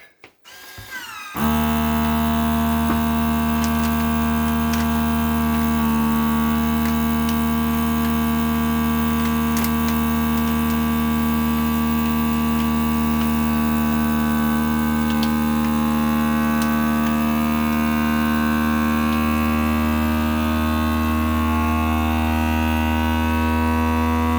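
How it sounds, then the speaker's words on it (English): A FoodSaver vacuum sealer pumps air out of a bag, starting after a brief clunk and then running as a loud, steady electric motor whine with a strong hum, continuing unbroken for over twenty seconds. "the food saver has sucked all of the air out of it"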